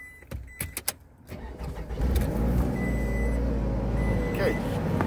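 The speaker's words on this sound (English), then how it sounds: "Motor runs good, as you can hear." A 2008 Scion tC with the 2.4 engine and automatic transmission idles at a wrecking yard, a steady low hum taking over after a few clicks and knocks, with faint beeping in the background.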